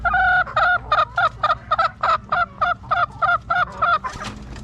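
Maclean Hatch gamefowl chickens in a coop give a rapid, evenly spaced series of loud harmonic calls, about a dozen pulses in close succession, with no talking.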